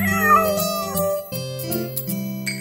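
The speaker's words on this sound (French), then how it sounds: "Regarde le vilain chaton." A kitten meows in a long, wavering, pitched cry that rises and falls, loud and close, within a French preschool nursery-rhyme song.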